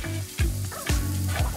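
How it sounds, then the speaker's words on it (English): Onion and capsicum sautéing in a hot pan for Brazilian hot beef: a steady close sizzle, broken by three rhythmic scraping stirs that briefly swell the frying hiss. "Sauté the veggies so all their caramelised goodness carries over to the meat"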